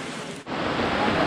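Rain falls steadily in a rural spot in Occidental Mindoro, a dense, even hiss with a brief dip near the start before resuming at full strength.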